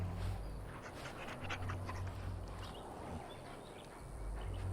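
A pet dog in the Dragon Age Origins video game pants steadily and rhythmically up close, a continuous breathy huffing over a low game ambience.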